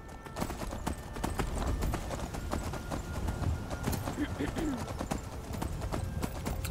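A ridden horse in Skyrim clip-clops at a steady walking rhythm, its hoofbeats close and continuous under a faint game ambience, with a brief whinny-like sound partway through.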